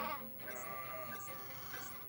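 Sheep bleat in a ship's live cargo hold in an anime scene, with a few short wavering cries spread across the moment over a steady background of music.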